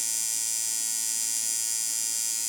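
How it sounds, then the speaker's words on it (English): A tattoo machine running unloaded at shader speed, a steady high-pitched electric buzz with an even, unbroken drone, close and alone throughout. "110, 115 is going to be your average unloaded shader speed"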